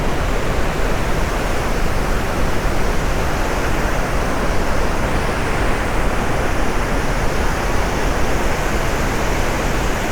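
Iguazu Falls roaring at the Devil's Throat, viewed from the end of the trail in the national park: a loud, dense, unbroken rush of falling water that fills everything from start to finish, with no voices.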